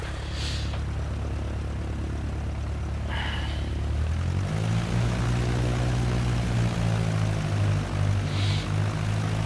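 A propeller airplane's engine drones loudly and steadily, then throttles up to a deeper, stronger roar partway through as the plane begins its takeoff run along the runway centerline.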